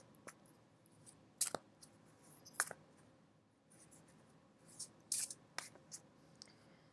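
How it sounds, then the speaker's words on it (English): Tarot cards shuffled by hand in several short bursts of riffling and snapping, close and quiet, separated by pauses with faint background hiss. "I'm going to shuffle again, because I'm now going to shuffle that topic into the cards"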